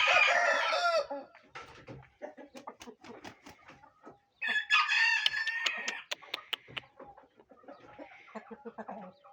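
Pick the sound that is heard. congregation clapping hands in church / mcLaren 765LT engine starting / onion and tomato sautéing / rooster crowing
rooster crowing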